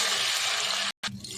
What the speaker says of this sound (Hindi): 2 गिलास पानी डाल देंगे।